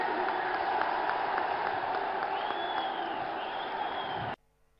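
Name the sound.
crowd applauding at political rally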